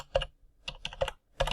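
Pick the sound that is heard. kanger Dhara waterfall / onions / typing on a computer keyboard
typing on a computer keyboard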